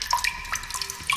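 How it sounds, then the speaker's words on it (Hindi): Water runs from a tap into a vessel in the video game Kamla, a steady close splashing stream with brief higher tonal glints, lasting about a second. "अब भरते हैं इसमें पानी ताकि हम बुझा सके आग।"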